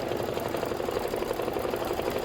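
An embroidery machine stitches a tack-down line on a pillow block in a steady, close, fast mechanical whir with no talking.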